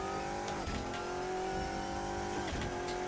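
A Shadow Saleen V8 race car from the RSS pack in Assetto Corsa roars steadily at high revs with no speech, and the engine note dips sharply twice as it shifts gears before climbing again.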